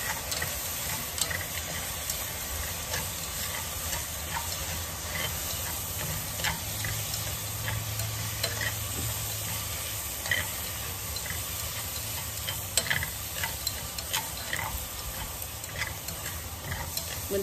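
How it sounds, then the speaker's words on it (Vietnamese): Prawn heads stir-fried in a pot for tofu soup with mushrooms, giving a steady low sizzle with light scraping and stirring clicks throughout, close and continuous with no talk. "mình xào cho nó thơm lên,"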